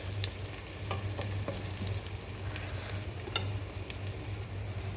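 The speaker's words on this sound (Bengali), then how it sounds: "পেঁয়াজটা আর একটু ভাজা হোক" Onions fry in a pan with a soft, steady sizzle, punctuated by a few light stirring scrapes, heard close and fairly quiet with no talking.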